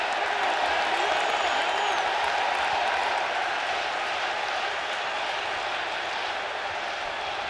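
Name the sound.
baseball stadium crowd cheering in Flushing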